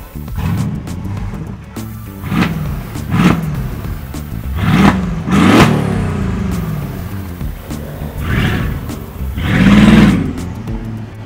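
A 700-horsepower Mercedes GL Brabus 700 on a Monaco street revs its engine in five or six loud, deep bursts, each rising and falling, with short gaps of idle between them.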